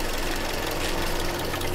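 A Toyota Corolla GLI engine idles roughly with one plug coil removed, a low steady misfiring hum heard close and alone without speech.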